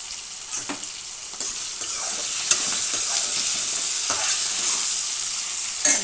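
Baby potato gravy curry stews in a pan while a spoon stirs it, making a steady close sizzle broken by repeated scraping strokes, with no voices.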